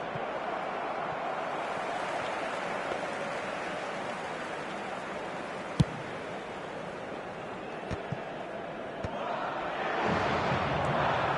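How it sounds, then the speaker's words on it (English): Broad, steady roar of a stadium crowd at a football match, distant and washy, with a few sharp knocks and a swell of noise near the end. "the crowd have tried to spark some excitement, but to no avail"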